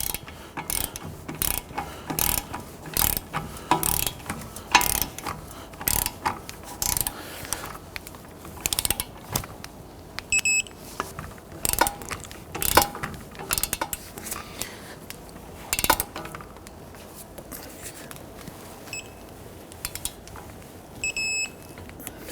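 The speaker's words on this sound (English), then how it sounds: "I'm going to go ahead and torque down our strut bolts to 156 foot-pounds." A torque wrench tightens the strut bolts to 156 foot-pounds on a 1992-1996 Toyota Camry during hub and bearing replacement, giving repeated close ratcheting clicks and metallic clanks in an irregular rhythm with no talk.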